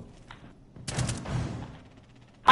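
Gunfire in Rainbow Six Siege: a short burst of several shots rings out at close range in the middle, then fades, and a sharp shot-like crack hits at the very end.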